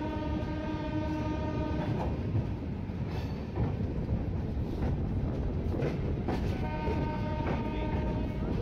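SMBT Duronto Express 12245 passenger train rolling along with a steady, loud rumble and clatter of the carriages, with long sustained horn tones sounding near the start and again near the end.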